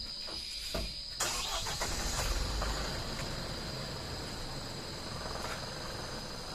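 A loaded Tata 1512 truck's engine starts and rumbles as the truck moves off, a low steady drone heard from a moderate distance over a faint background hiss, with a sharper burst near the start.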